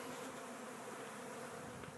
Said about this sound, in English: I don't know if you can see all the bees swarming around the back of my truck